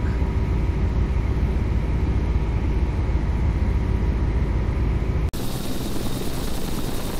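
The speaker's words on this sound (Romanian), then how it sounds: "Normal că elicopterul se face până la munte cam 6-7" A helicopter engine in a flight simulator game, flying from Salzburg toward the Wolfgangsee, drones loudly and evenly with a constant rotor hum, then shifts abruptly to a thinner tone near the end.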